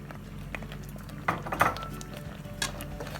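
A spoon scrapes and clinks against a pan while sugar is stirred into wheat halwa, soft intermittent metallic taps and scraping at close range over a low background hum.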